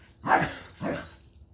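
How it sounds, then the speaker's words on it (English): Dogs play-fighting let out two quick barks close by, each one a short gruff bow-wow, heard alone over quiet room noise. "Of course, it's right under me that the entire dog fight has to happen."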